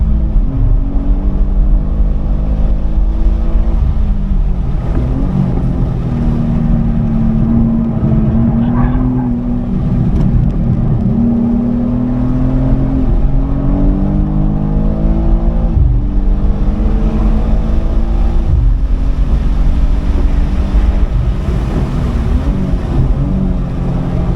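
A 2023 BMW M2 (G87) accelerating around a race track, its engine droning loud and close with rising revs, gear changes and renewed pulls over a steady road and wind roar.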